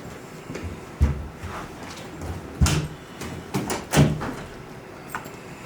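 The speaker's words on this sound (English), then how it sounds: "you can close the door" A classroom door being closed, with several dull thumps and clunks spread over a few seconds, the loudest near the middle and end, against quiet room background.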